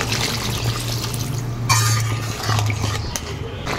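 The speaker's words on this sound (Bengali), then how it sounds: "আমি এবার জল দিয়ে দিচ্ছি।" Water is poured into a pan of Japanese puti fish curry, giving a soft, close splashing and sizzling pour lasting a few seconds, with a brief clatter partway through.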